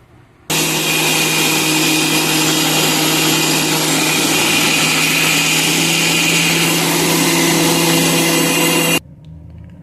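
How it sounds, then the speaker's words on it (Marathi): A mixer grinder grinds soaked dosa batter with a loud, steady whirring roar that runs for about eight seconds and then cuts off abruptly. "आता हे मिक्सरमध्ये टाकलेलं आहे आणि आपण याला बारीक करून घेणार आहोत"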